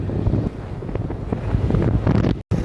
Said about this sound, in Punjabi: ਹਵਾ ਬਹੁਤ ਠੰਡੀ ਚੱਲਦੀ ਹੈ